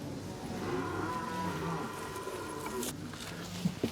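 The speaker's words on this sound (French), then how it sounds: "Ah, mes jolies vaches." Cows moo on a farm in a herd of about 68 head, long low lowing calls running together over a busy background of shuffling and farmyard noise, with brief clicks near the end.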